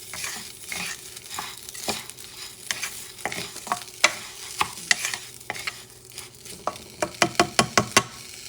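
A spatula stirs rice in a hot pan with a soft sizzle underneath, with irregular scrapes building into a quick run of sharp, close strokes near the end.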